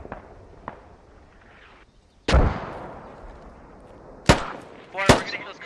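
FAL battle rifle fire in the military shooter Squad, near a ridge line and town: scattered faint distant cracks, then three loud, sharp close shots spaced a couple of seconds apart, each with a rolling echo.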